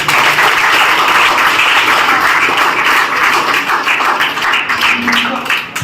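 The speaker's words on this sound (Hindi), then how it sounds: "विनय सर के लिए एक बार जोरदार तालियां" Loud, close applause from an audience at a pharmacy and paramedical college event, many hands clapping in a thick, continuous burst that holds strong for about six seconds and tapers slightly.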